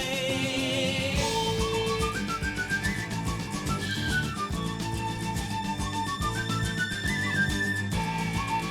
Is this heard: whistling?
yes